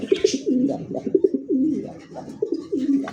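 A large Bombay pigeon with a pink beak coos close by, giving a repeated run of low, rolling calls in a steady rhythm.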